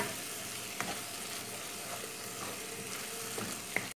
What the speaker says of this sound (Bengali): এখন আমি সব মশলা একসাথে মিশিয়ে কষিয়ে নিব